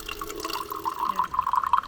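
Steady trickle of water gravity-feeding through a filter into a bottle at a campsite, a light continuous splashing with small drip-like accents, close by and fairly quiet.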